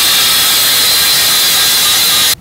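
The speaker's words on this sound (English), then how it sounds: "I am using my little grinder here, my little cutoff wheel, and just getting in there" A small angle grinder with a cutoff wheel cuts into a trailer fender, a loud, steady high-pitched hiss and whine that runs continuously before cutting off abruptly at the end.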